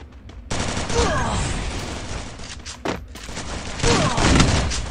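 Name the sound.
shotgun gunfire in the video game Garena Free Fire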